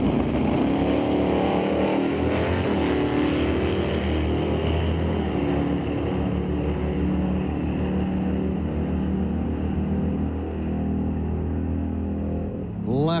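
Drag racing at a racetrack, a 1966 Satellite lined up against a green-yellow 1970 Chevy Camaro: loud, continuous engine roar that holds steady, then fades slightly as the cars pull away, with no voices over it.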